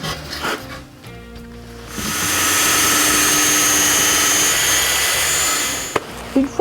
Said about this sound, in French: Une fois que les planches sont découpées